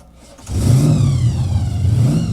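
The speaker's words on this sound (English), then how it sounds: "I love the supercharger whine" A supercharged Jaguar-engined car accelerates hard, the engine roar swelling quickly with a rising mechanical whine riding on top, close and loud with no voices.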